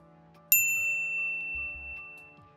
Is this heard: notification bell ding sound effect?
yes